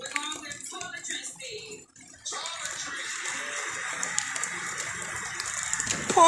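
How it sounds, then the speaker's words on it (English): Heavy rain pours down steadily outdoors on a hot day, a dense continuous wash of water that grows fuller after a brief lull, with faint voices under it. "Pouring down, raining."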